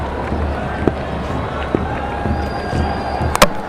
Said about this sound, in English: The crowd are up.